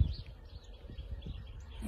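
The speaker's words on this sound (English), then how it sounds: "You can hear the birds chirping." Birds chirp faintly outdoors on a spring day beside a blossoming tree, with a few thin, distant calls over low wind rumble.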